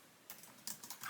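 A quick run of keystrokes on a computer keyboard, several crisp clicks in an uneven burst, close and fairly quiet, with no voice over them.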